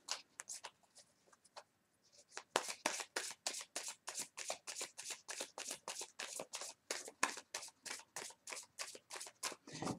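Oracle cards from a Fantastical Creatures deck being shuffled and dealt onto a table: a few soft flicks, a short pause, then a long, steady run of crisp, rapid riffling snaps, close and quiet with no voices.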